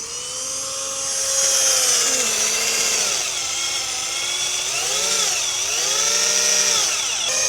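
A handheld power tool grinds and cuts along an edge during house construction, a loud whining tone that rises and dips as the blade loads and frees, continuous and close.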